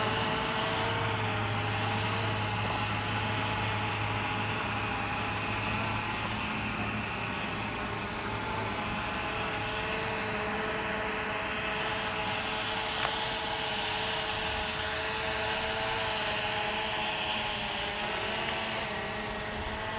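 A Tomzon D30 drone hovers outdoors in a light breeze, its rotors giving off a continuous close buzzing whine that holds steady for the whole stretch with no voices.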